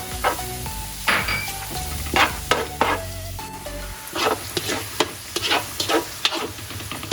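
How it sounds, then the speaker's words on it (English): Mushrooms and carrots sautéing in a pan for Filipino-style pancit canton, with a continuous sizzle broken by frequent sharp scrapes and clatters of a utensil stirring, near and fairly loud. "We're going to saute this until the mushrooms get cooked, which will be around 4 or 5 minutes, okay?"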